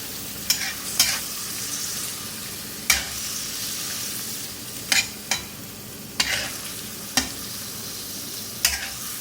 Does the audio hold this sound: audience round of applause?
no